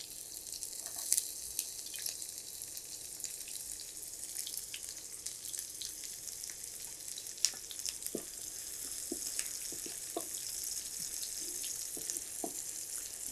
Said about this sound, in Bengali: পেঁয়াজটা অল্প ভেজে নিব।